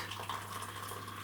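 Hot water pouring from a kettle into a cup over two chicken stock cubes, a steady close splashing stream that runs throughout without a break.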